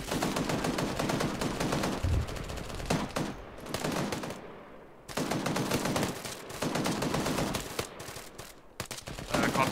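Gunfire rattles through a night patrol firefight in the military simulation game Arma 3, with dense bursts of automatic and rifle shots, a short lull in the middle, then renewed heavy firing.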